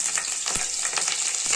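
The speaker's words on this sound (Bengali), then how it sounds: "ফোড়নটাকে একটু ভাজা ভাজা করবো" Cumin seeds, dried chillies and bay leaf tempering in hot oil in a kadai for radish dal, giving a steady, close crackling sizzle with sharp pops throughout, no talking.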